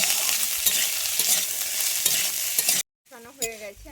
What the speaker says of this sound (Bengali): এরপরে দিয়ে দিচ্ছি হলুদ ক্যাপসিকাম এরপরে আমি দিয়ে দিচ্ছি কাঁচা লঙ্কা দিয়ে আমি এবারে একটু ভালোভাবে এখানে আমি কষিয়ে নিচ্ছি